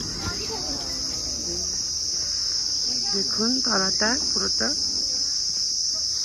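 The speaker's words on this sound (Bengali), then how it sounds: "আর পুরো এখানে ঝিঝি পোকা ডাকছে পুরো" Crickets near a hillside monastery at Tinchuley, Darjeeling keep up a steady, loud high-pitched drone through the whole stretch, while people talk nearby over it.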